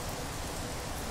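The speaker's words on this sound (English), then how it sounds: "Superheated rain." Superheated rain falls on a planet in the video game No Man's Sky, a steady, quiet, broadband hiss of rainfall that holds even throughout with no voices.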